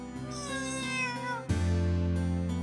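A cat named Melano meows, a long close wavering cry that rises and falls, followed by a second, louder and lower meow that holds steady.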